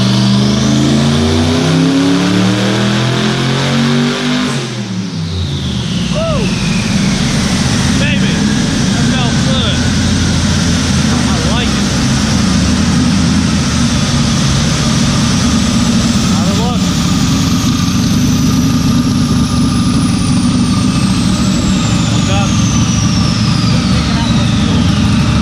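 A boosted car of around 820 horsepower roars on a dyno, climbing in a long, loud, sustained rev with whining harmonics and steady mechanical drone, close and continuous, while people talk over it.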